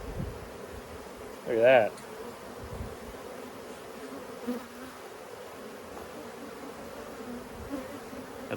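Honey bees from a hive during a cut-out, a steady low buzzing swarm drone throughout, with one brief louder close buzz and someone speaking briefly.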